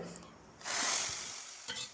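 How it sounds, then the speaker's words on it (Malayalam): Oil sizzles suddenly after a quieter start, a steady bright hiss as mustard seeds hit the hot pan, with a faint clink near the end. "കറി ഇതാ ഒന്ന് കടുക് വറുത്തെടുക്കുന്നുണ്ട്"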